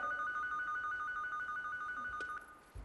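Telephone ringing steadily with an electronic tone, quiet and somewhat distant, in a Chinese comedy sketch on stage, ending with a short click.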